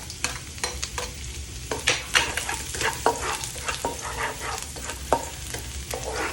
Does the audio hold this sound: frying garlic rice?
yes